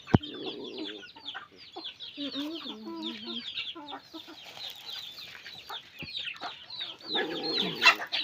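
Chickens cluck and chatter in a busy, overlapping flurry, close by, with sharper squawks near the end.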